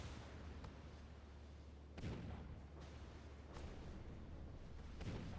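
Naval cannon fire and a turret being destroyed in the ship combat game NavalArt, a few distant booming hits spread over a low engine rumble, fairly faint overall.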